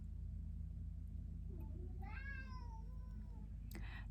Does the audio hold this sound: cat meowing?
yes